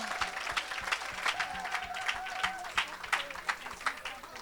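A church congregation claps and cheers for Jesus, with rhythmic, lively applause from a crowd in a large room, continuous throughout with voices mixed in.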